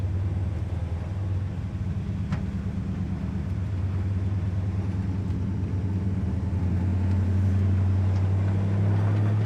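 A 1965 Chevrolet C10 truck's engine runs at a smooth, low idle close by. The throbbing rumble swells a little toward the end, with no voices over it.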